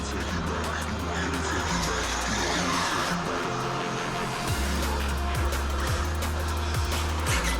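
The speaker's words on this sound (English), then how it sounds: "I can just hear the motor spinning like crazy there." A high-pitched electric motor of a Traxxas UDR RC truck whines and revs continuously, rising and falling in pitch with a few sharp spikes, over steady outdoor noise.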